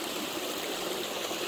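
A forest creek along the trail to Tadfa Waterfall in Chaiyaphum flows in a steady, close rushing gurgle, with no voices.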